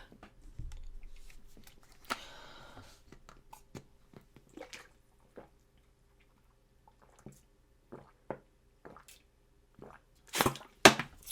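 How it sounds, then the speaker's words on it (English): Water drunk in loud, wet gulps and swallows close to the mic, a cluster of squishy mouth sounds followed by separate sharp swallowing clicks spaced across a quiet room. "Sorry for my visceral sounding water drinking."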